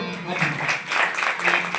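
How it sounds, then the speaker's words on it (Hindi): An audience at a Sundarkand devotional gathering claps for their parents, several quick uneven bursts of applause mixed with a voice speaking. "एक बार अपने माता पिता के लिए ताली बजा दो"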